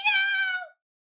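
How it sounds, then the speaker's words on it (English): A single close, clear cat meow, loud and drawn out for under a second before cutting to silence, with no talk over it. "Meow. Meow. Yeah, that's what cats say."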